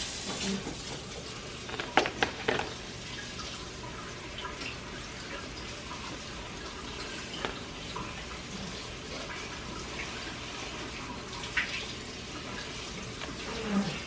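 Fruit being rinsed under a running tap in a home kitchen during breakfast preparation: a steady, moderately close hiss of flowing water with a few brief clatters and splashes.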